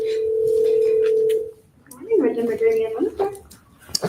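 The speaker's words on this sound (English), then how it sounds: "Dialing special master." A telephone call is placed: a steady dial tone hums for over a second, then stops and gives way to a short run of tones and ringing, with a faint voice near the end.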